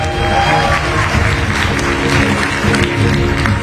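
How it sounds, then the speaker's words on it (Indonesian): A large audience applauds steadily at a talk show held at Universitas Padjadjaran, the dense clapping loud and close, with crowd noise filling the whole stretch. "Biasa tepuk tangan buat Universitas Padjadjaran."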